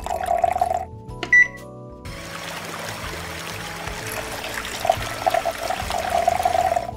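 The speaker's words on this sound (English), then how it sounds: "Pour gasoline into the tank." Gasoline pours into the fuel tank of a LEGO boat with a steady liquid trickle lasting several seconds, preceded by a short mechanical whir from an electric fuel pump.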